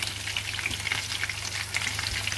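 Pork pieces fry in hot oil at about 130 to 150 degrees, giving a steady close crackle and sizzle with no talking.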